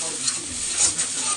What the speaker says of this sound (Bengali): এই মশলাটাকে এখন ভালো করে কষে